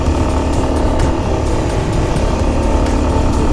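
A heavily vibrating motorcycle engine runs continuously on a mountain ride toward Aamayangri base camp, a loud, even drone close by with no voices.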